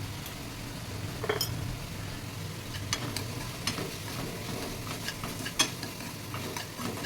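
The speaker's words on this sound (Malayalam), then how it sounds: "അത് രണ്ടും കൂടി നന്നായിട്ട് കിടന്നൊന്ന് ഫ്രൈ ആവട്ടെ." Onion and tomato fry in a pan as they are stirred, a soft, steady sizzle broken by scattered scraping and clinking of the utensil against the pan, close and quiet with no talk.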